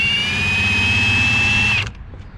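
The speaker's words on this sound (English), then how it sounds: "So we got our vice grips on the inner sleeve of the bushing. We're gonna try and spin the bolt and see if it'll all come apart." A stuck control arm bushing bolt on a 1996 Toyota Camry being worked with vise grips, heard as a steady, loud mechanical whine with a low rumble for almost two seconds before it cuts off abruptly.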